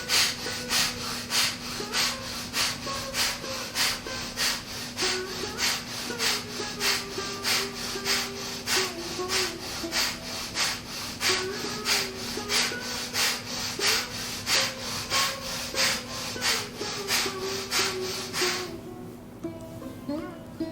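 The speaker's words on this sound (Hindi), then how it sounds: "भस्त्रिका का तीसरा और अंतिम चक्र 30 बार 30 टाइम्स आरंभ करिए।" Forceful bhastrika yoga breathing: a steady, rhythmic run of about thirty sharp, close in-and-out breaths over a faint sustained background tone, ending with a quiet pause.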